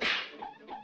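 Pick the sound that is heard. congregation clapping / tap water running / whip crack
whip crack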